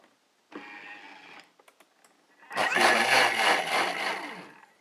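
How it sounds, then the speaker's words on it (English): A blender whirs at high speed on a thickening sauce with xanthan gum, loud and close after a brief lower whir and a few clicks of the lid and switch, roaring steadily for about two seconds. "Put the lid on this and blend it high speed about a minute"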